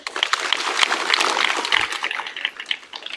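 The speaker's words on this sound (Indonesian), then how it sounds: "Kasih tepuk tangan, boleh." Applause rises from a crowd at a school flag ceremony, a dense steady patter of many hands clapping throughout that thins slightly toward the end.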